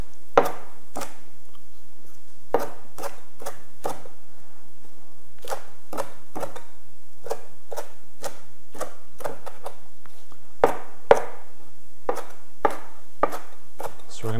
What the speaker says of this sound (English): We'll just chop up the kale.